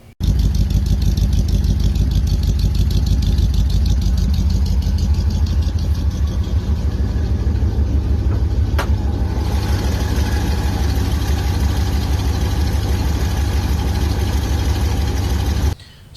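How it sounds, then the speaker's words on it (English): A running Ford Cleveland V8 in a 1970 Mustang idles with a loud, steady low rumble that holds evenly for the whole stretch before cutting off near the end. "the best thing about this motor when we bought it is that it was actually running"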